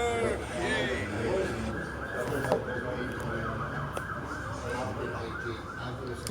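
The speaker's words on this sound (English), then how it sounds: "Was that an ambulance?" A wailing siren rises and falls in the distance beneath steady background noise and people talking nearby.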